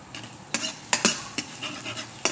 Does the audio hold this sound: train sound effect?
no